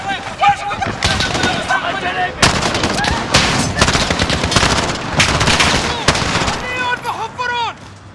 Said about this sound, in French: Les coups de feu, bien sûr.